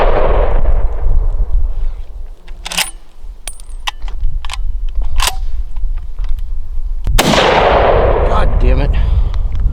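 Remington 760 Gamemaster rifle shots fired outdoors, a few sharp loud cracks with ringing decay, spaced several seconds apart, with wind noise and faint movement between them.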